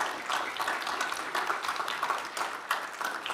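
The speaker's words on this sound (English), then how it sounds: "if they can just stand up and we can give them a little applause for being here today" Applause for a group of young apprentices at a county board of supervisors meeting, a steady patter of clapping from a small crowd that stays even and moderately loud throughout.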